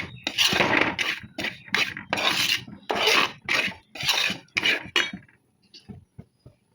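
Masala powder roasts in a pan for a curry while being stirred hard. Repeated rhythmic scraping strokes sound up close, then fade to near quiet at the end.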